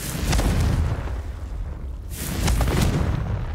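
A Confringo blast in a Harry Potter video game goes off as two loud booming bursts, a deep rumbling explosion, then a second one after a short lull, with no talking.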